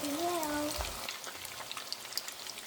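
Meatballs for Filipino sweet and sour bola-bola frying in a pan, a steady close crackling sizzle with small pops, with a brief voice at the start.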